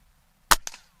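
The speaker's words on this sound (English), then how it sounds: "now I got to shoot the littler target" A single sharp shot from a Gamo Hunter Extreme Pro .22 caliber air rifle, loud and close, with a quick crack followed by a brief second snap and a short decay into silence.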